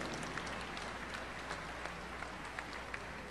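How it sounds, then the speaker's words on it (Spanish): An audience applauds a speaker at an innovation business conference, a dense even wash of clapping held at moderate distance for a few seconds. "Un aplauso, por favor, para nuestra ponente Celeste North."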